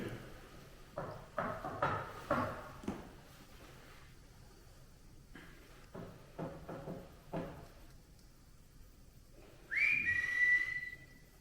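A sharp, high whistle sounds once near the end, after scattered faint thumps and noises in a quiet outdoor setting.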